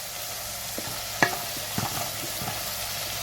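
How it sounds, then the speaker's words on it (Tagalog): Aromatics for crab in coconut milk sauté in a pan under a constant close sizzle, with a few clinks and scrapes of a utensil stirring, and no voices. "ginigisa ko po muna sila para makuha ko yung gusto kong lasa"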